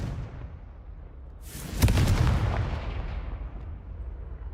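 The Confringo fire spell exploding in the Hogwarts Legacy video game, a single loud sudden blast with a rumbling boom that decays slowly into a lingering roar.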